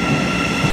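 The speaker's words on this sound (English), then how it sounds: "this train that's currently running off behind us" A train pulling out of Liverpool Street Station in London gives a loud, steady rumble with a sustained tonal hum and faint rail clatter, with no talking.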